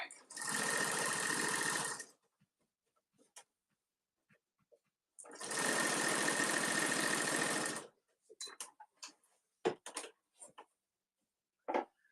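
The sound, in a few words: sewing machine stitching fabric for a boxy bag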